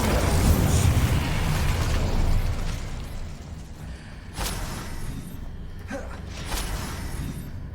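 A fire spell cast in the Hogwarts Legacy video game: a few sharp whooshing bursts rising out of a steady bed of in-game ambience, the loudest flare arriving near the end.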